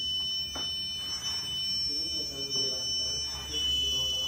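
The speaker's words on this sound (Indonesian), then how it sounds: "alat akan berbunyi atau buzzer akan berbunyi." An Arduino distance-sensor buzzer sounds as a steady electronic tone that holds through, shifting pitch partway, with a person talking faintly underneath at close range.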